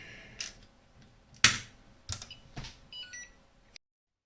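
A chip tester checking a chip from a damaged C64 Super Mario Bros cartridge, giving several short, sharp clicks and a brief high electronic beep, close and quiet, spaced irregularly.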